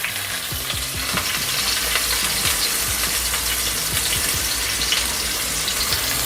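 Chopped onion frying in olive oil gives a steady, close hiss and crackle of sizzling that holds even and loud throughout, with faint stirring underneath.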